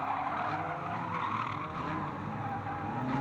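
Banger racing cars skidding around a raceway, a continuous engine drone and tyre scrub heard from a distance, a steady mechanical wash with no clear pauses.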